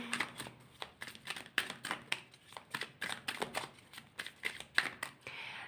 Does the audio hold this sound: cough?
no